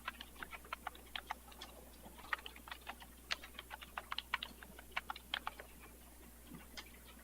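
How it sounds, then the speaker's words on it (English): Typing on a computer keyboard while entering data, a quiet run of irregular light key clicks close by with brief pauses between bursts, and no one speaking. "so we're going to type in South Ericaceae."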